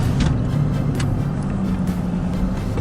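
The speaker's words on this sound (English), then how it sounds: "the traffic it's a good amount of traffic on the road" Road traffic rumbles steadily, with cars rolling past and low engine and tyre noise filling the background at a moderate, even level.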